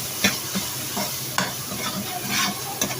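Tomatoes and spices fry over medium heat with a loud, continuous sizzle, and a spoon stirs and scrapes the pan in several distinct knocks.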